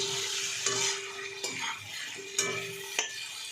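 Onions cut into large chunks frying in a pan with tomato make a steady, close sizzle, with a few clinks of a utensil stirring against the pan.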